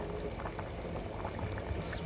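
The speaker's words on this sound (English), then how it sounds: "it's boiling." Risotto boils in a pot on the stove, a steady close bubbling and simmering hiss with no breaks, faint and continuous throughout.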